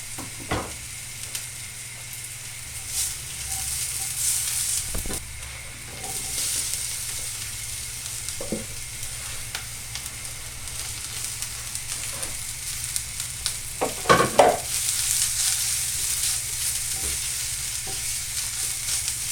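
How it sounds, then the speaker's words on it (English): Garlic and spring onion whites sizzle steadily in a pan alongside aubergine and pepper for a chutney, a continuous close frying hiss broken by occasional scrapes and taps of a stirring utensil. "Now add the garlic and spring onion whites, just fry them for about 30 seconds or so"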